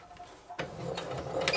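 A sewing machine stitches a beach bag handle through two thick layers of fabric, starting abruptly after a short quiet pause and then running in a steady, close, mechanical whir.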